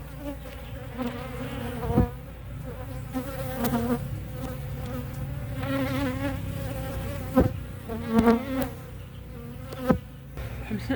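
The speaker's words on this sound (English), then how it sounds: "the bees are still all over me" Honeybees from an aggressive hive buzz all around a beekeeper, a dense and continuous close drone with individual bees whizzing loudly past the microphone again and again.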